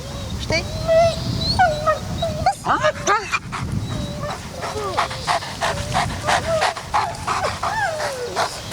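A dog during obedience training yips, whimpers and barks in quick, repeated bursts close by, with a steady background rumble throughout.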